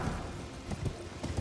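Horses galloping in Elden Ring, a quick run of muffled hoof thuds in an irregular rhythm at moderate distance, lasting only a moment.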